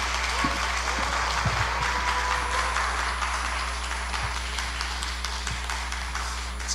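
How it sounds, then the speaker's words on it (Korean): A church congregation at a Korean revival meeting applauds in welcome as a pastor comes forward. The clapping is steady and continuous over a low electrical hum, with a few louder individual claps standing out. "목사님 나오실 때 환영의 박수"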